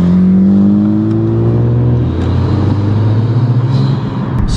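A Honda Civic Type R engine revs at full throttle, its steady rising drone climbing in pitch over several seconds. The sound is continuous, close and moderately loud, with no one talking.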